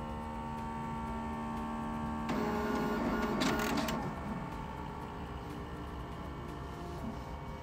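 An HID Fargo INK1000 ID card printer runs a premium print, a steady mechanical hum with tonal whine that swells into a louder whirring pass midway before settling back to a low drone.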